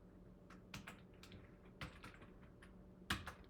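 A computer keyboard is typed on while entering a formula in Excel, with a handful of quiet, sparse key clicks and one sharper tap near the end, in a quiet room.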